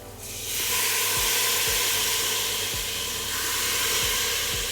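Beef sears in a hot pan as Worcestershire sauce hits it, erupting into a loud, steady sizzle and hiss that persists for several seconds, with faint low clicks underneath.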